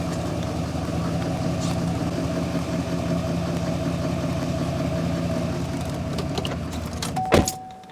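A car engine runs at a steady idle-like hum while the vehicle reverses up to a door, with a brief sharp clunk near the end.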